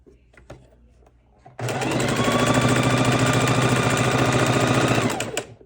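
A sewing machine chain stitching quilt scraps runs in one steady, loud, rapid mechanical burst after a quiet start with light handling noises, then stops.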